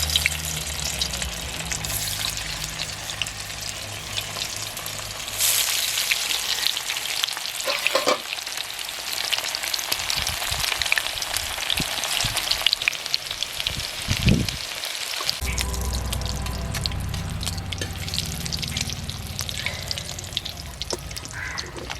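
Cabbage and egg fritters deep frying in a wok of hot oil, a steady loud bubbling sizzle throughout with occasional sharper crackles and spatters, no talking.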